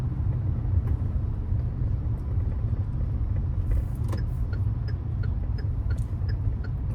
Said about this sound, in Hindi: तो थाने में ऑब्वियसली ट्रैफिक बहुत ज़्यादा रहता है